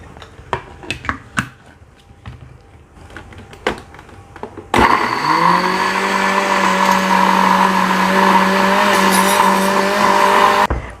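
An electric kitchen blender grinds rawon spice paste with kluwek and its soaking water, starting abruptly with a loud, steady high whine and motor drone that runs on alone after some clattering prep noises.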